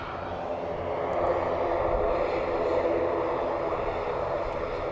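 A Qatar Airways Boeing 777 in from Doha lands on runway 28L at Dublin Airport, its engines a steady, broad roar that holds at an even level throughout.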